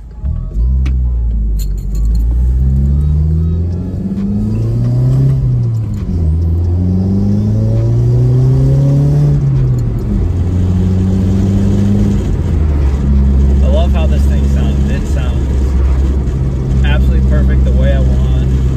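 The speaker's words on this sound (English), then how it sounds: "nice little turbo sound. I love it." A turbocharged Cadillac CTS engine with an aftermarket turbo downpipe climbs through rising revs with gear shifts, a steady loud drone under someone talking over it.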